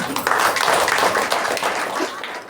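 An audience at a Telugu meditation gathering claps together, a dense, steady patter of many hands lasting a couple of seconds.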